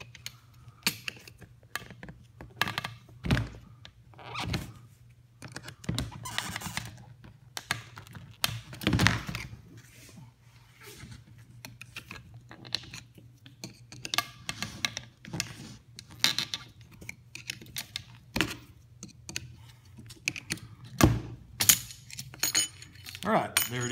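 A Snap-on hook tool working a part out of a Mossberg Shockwave shotgun magazine tube, with a steady series of close metallic taps, clicks and scrapes at irregular intervals, under occasional talk.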